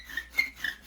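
A wooden bow drill spindle rubs against a wooden fireboard to make fire, producing short, raspy back-and-forth strokes in an even rhythm, close and fairly quiet.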